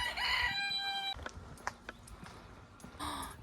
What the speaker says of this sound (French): ils ont mis des poules à la place. Des poulets.